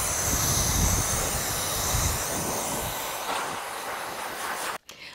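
A Zuvi Halo hair dryer runs close by with a steady, dense whooshing rush of air that holds for several seconds before briefly cutting out near the end.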